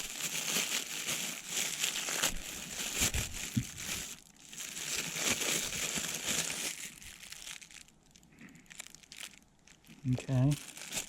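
Plastic packaging and a delivered parcel for a BMW K100 cafe racer build crinkle and crunch as it is torn open, with dense rustling across most of the stretch and a short voice near the end.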